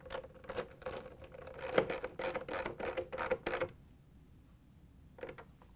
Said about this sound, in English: we're going to use the 1/4-inch socket with the ratchet to put the screws in